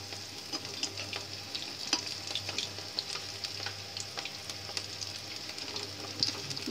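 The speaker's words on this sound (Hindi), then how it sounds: "फ्राई हो रहा है" Cauliflower pieces fry for Manchurian in hot oil with a steady, close sizzle, and scattered ticks and pops come from stirring. Nobody speaks.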